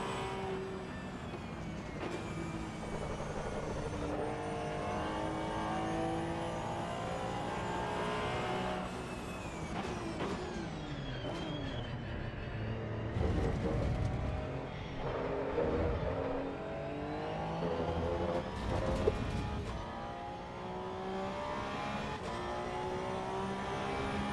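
A Porsche in a racing video game, its engine revving hard and shifting pitch continuously, with repeated rises and drops as gears change and a few sharp bursts of louder noise along the way.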